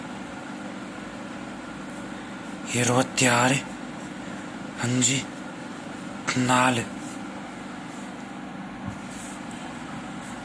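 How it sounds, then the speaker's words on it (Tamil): A fan and a motor run together, giving a steady, unchanging low hum and whir that fills the background throughout while a voice speaks in a few short bursts over it. "மோட்டர் ஓடுற சத்தம் தான் இது."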